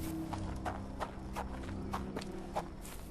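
Horse hooves clip-clop steadily in the Sherlock Holmes: The Awakened video game, a sick, dehydrated horse shifting on its feet, the clops moderately close over a low background hum with no speech.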